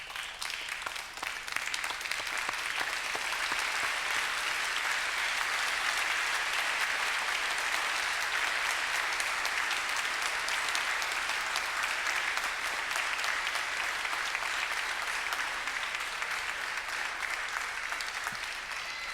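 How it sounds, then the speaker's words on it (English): Sustained applause from a standing graduation ceremony audience, steady dense clapping throughout, fairly distant and even, with no speech over it. "I now invite you to stand and turn and express your gratitude by a round of applause."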